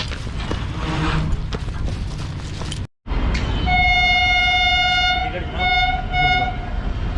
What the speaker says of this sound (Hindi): तो ये आ रही है 38 डाउन बाबा फरीद एक्सप्रेस।